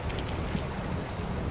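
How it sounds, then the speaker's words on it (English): Wind blowing in the underwater horror video game SOMA: a steady, dull, low rushing roar that fills the scene without a break. "It's just really windy."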